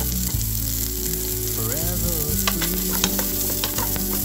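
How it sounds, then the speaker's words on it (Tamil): Onion, ginger and garlic sautéing in a pan, a steady close sizzle with scraping stir strokes and light clinks, continuous throughout with no talking. "இஞ்சியும் பூண்டும் போட்டு நல்லா வதக்கிக்கலாம்."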